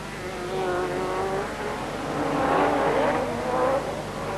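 A Ford RS200 rallycross car racing alone on an empty track in perfect weather, its engine a steady, loud drone that rises and falls through gear changes, heard from a moderate distance.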